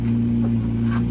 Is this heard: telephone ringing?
no